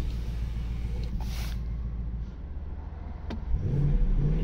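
A Ford Mustang's engine and exhaust heard from inside the cabin with the windows open: a low, steady rumble that dips, then rises into a louder rev near the end, with no talking.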